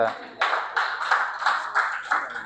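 Several bursts of clapping from a small crowd at a book festival, rising and falling in short waves, with a faint voice murmuring underneath.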